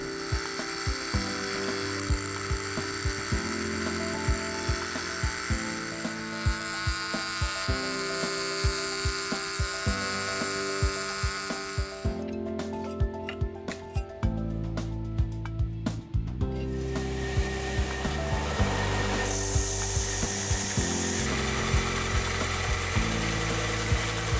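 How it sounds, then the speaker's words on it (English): A scroll saw roughs out a clock click part and a belt sander then trims it, making a steady motorized buzz with changing hums and pitch shifts as the tools and pressure change. It runs continuously, close and moderately loud, with no talking. "The part was then roughed out using the scroll saw and then brought closer to the line with the belt sander."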